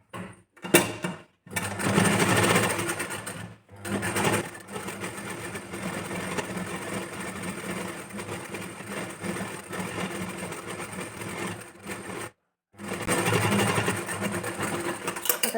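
Sewing machine stitching a fabric strip onto a back-open princess-cut blouse, running in close, fast continuous bursts of several seconds separated by brief pauses.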